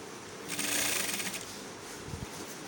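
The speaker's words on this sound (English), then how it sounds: "So I'm sewing my neckline right down." A sewing machine stitches down the neckline of a senator garment, a short close burst of rapid stitching over a quiet room background.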